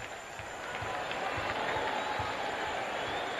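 The crowd at a 2001 Tennessee vs Kentucky college football game cheers and roars as a steady wash of noise, with clapping and a faint tone running through it.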